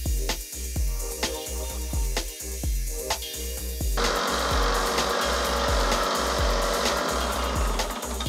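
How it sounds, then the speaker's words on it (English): A belt sander grinds the edge of a wooden fishing jig prototype, a loud, close abrasive whir with rhythmic thumps as the piece is worked, turning to a harsher, steadier roar partway through. "gonna probably use the actual belt sander itself, the tool, to clean up the edge"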